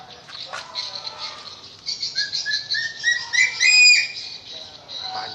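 A black eagle gives a series of high, thin whistled calls that rise and grow louder toward the middle before easing off, heard close by with no talk.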